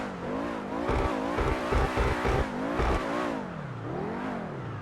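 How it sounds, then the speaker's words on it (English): A car engine in GTA 5 Online, an early-2000s style podium car, revs up and down in repeated surges with a few sharp throttle blips, loud and close with no talk over it. "what the car engine sounds like"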